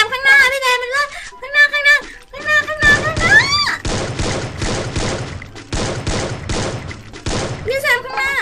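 Gunfire in the video game Free Fire: rapid repeated bursts of shots that come in quick clusters and keep going, after excited talking at the start.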